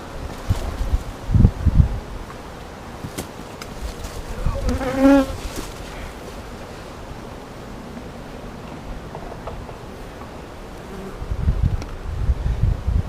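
A honeybee swarm buzzes around a propped-up hive in North Carolina, a constant hum with louder passes of individual bees flying close by and faint rustling, no talk.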